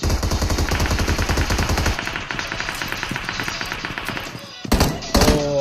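AK-47 and Uzi gunfire in PUBG Mobile, rapid automatic bursts of game shots, a dense volley first, then scattered cracks and thuds, and louder bursts near the end, with a commentator talking over it.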